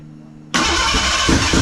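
A 1987 Ford Ranger with a rebuilt engine that has been running poorly cranks and suddenly catches, then keeps running as a loud, steady, rough roar after a brief quiet moment.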